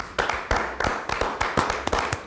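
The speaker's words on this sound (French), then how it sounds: "Donc on les applaudit." A small audience claps during a light-hearted reaction show, a close, uneven burst of individual hand claps with sharp repeated slaps and no voices over it.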